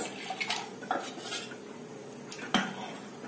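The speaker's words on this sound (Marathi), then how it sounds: "तवा एकदम छान तापल्यानंतर मिश्रण परत खालीवर पातेल्यामध्ये हलवून घ्यायचं." Ragi (finger millet) batter with buttermilk stirred in a pot with a spoon, giving soft scraping and a few sharp clinks of metal against the vessel, close and fairly quiet, no talking.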